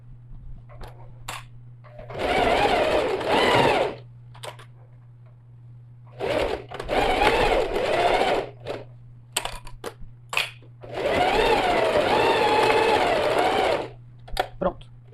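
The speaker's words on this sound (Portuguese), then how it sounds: "Com a margem menor que de 1 centímetro, eu começo a fazer a minha costura de segurança" A sewing machine sews a backpack safety seam in three loud bursts with backstitches, separated by pauses, over a low steady hum; a voice speaks between runs.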